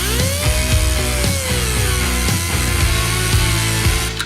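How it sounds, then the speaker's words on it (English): Power tool cutting rivets off a damaged riveted ball joint on a classic C10 truck control arm, a loud, continuous metallic whine broken by rapid rhythmic grinding pulses. "We're cutting out the riveted ball joint that can no longer be used because it's kind of destroyed."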